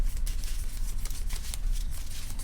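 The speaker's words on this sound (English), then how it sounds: "I'll shuffle these cards back in." Keyforge cards are shuffled back into a deck at a tabletop tournament, giving a soft, quick riffling and flicking that continues quietly throughout.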